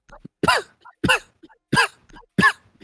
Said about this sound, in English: You catch the whooping cough?